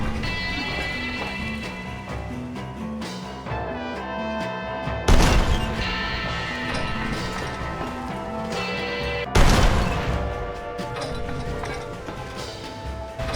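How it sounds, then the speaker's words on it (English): Two heavy cannon blasts boom at El Presidio in Red Dead Redemption, roughly four seconds apart, each a sharp loud burst that rings out over steady background music. "When using the cannon at El Presidio, a lot of players don't know you can actually shoot the cannon all the way to the other side of the border"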